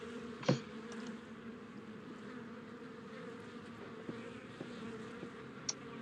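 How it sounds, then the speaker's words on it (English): Faint, steady insect buzzing from bees in a video game drones quietly through the whole stretch, broken by a few soft clicks and one sharper tap near the start. "Oh, it's bees."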